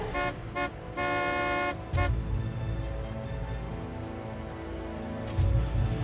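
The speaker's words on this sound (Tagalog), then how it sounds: "Dito pa ako busina ng busina." A car horn honks in several short toots followed by one long sustained blast, loud and close, with traffic rumble continuing underneath.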